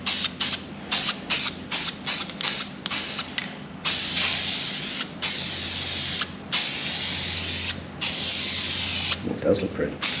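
Gloss coat goes on primed HT Holden V8 engine parts in short bursts of aerosol spray, a sharp hiss that starts and stops repeatedly before a longer steady spray, with voices nearby.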